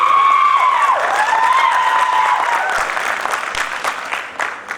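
Hall audience at a motivational talk breaking into loud, sustained clapping that gradually thins and fades toward the end, with a ringing tone audible early on.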